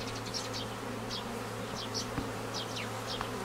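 Honey bees buzzing at a wintered hive of two ten-frame Dadant boxes early in the morning, a steady dense hum with individual bees zipping past close by.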